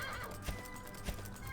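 A horse in the video game Dragon Quest 8 whinnies while its hooves clip-clop in a steady rhythm, two distinct hoof thuds standing out over a constant game background hum.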